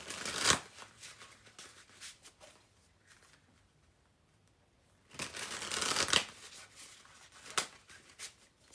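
A deck of tarot cards being shuffled and cut, two loud riffling bursts separated by a quieter stretch of soft card handling, close up with no talking.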